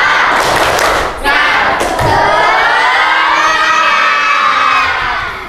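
Children in a group do a rhythmic clapping chant, with a few loud claps leading into sustained shouting and cheering voices, close and loud.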